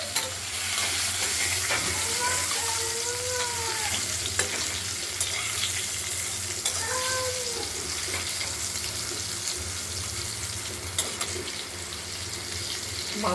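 Potato pieces fry with turmeric in hot oil while being stirred, a continuous close sizzle with scraping. A faint voice talks briefly in the background.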